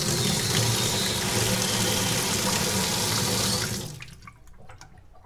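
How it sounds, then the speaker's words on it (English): Water rushes steadily down a sink drain just unclogged with a Kobalt KDA100 drain auger, a loud close gush that fades out near the end, leaving faint trickles. "And you could tell it's draining a lot better right now."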